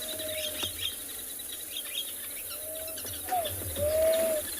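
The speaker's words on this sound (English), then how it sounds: "Oh, big group of starlings coming in." A big group of starlings calls as it flies in at sunrise in the wild, giving scattered chirps and several rising whistled notes, fairly faint against a quiet outdoor background.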